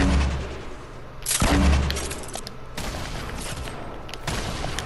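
Hunting rifle shots ring out in a video game, loud sharp reports that decay quickly, with a strong blast near the middle followed by further cracks and a constant background din.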